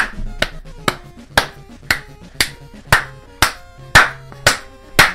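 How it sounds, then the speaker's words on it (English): Spiders in the video game Undertale clap along to music: a steady run of about ten crisp, evenly spaced claps over light tonal game music, with no talking. "All the spiders clap along with music."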